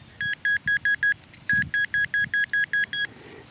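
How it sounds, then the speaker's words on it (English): A metal detector sounds a coin signal in a backyard: two bursts of clean, steady electronic beeps, five short tones then about eight more in a quick even rhythm, loud and close over faint outdoor background, with no talking. "got a nice coin signal here"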